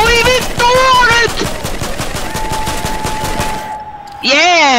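Rapid, evenly spaced bursts of automatic gunfire in the Fortnite video game rattle loudly for several seconds, with a tonal in-game sound and a shouting voice over parts of the volley.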